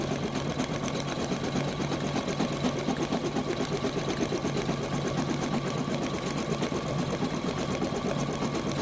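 Embroidery sewing machine monogramming a towel, a fast, steady mechanical stitching chatter running continuously at close range, with no voices.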